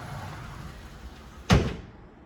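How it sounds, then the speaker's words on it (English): A condo's front entry door shuts with a single sharp thud and brief rattle after a quiet stretch of room tone, the impact close and loud before fading out. "Our front entryway door here."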